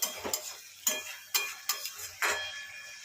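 A spoon scrapes and clinks around a pan of vegetable curry in a quick series of about six strokes, with a soft sizzle underneath, close and clear with no voices.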